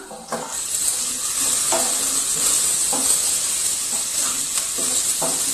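Onions and vegetables sizzle steadily in a pan over low heat while a spoon stirs them with soft, regular scraping strokes.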